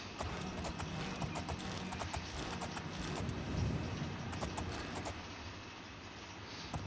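Hooves clip-clop steadily from a horse in the video game Elder Scrolls IV Oblivion, a fairly close, even rhythm over a dense, continuous background of game ambience and music.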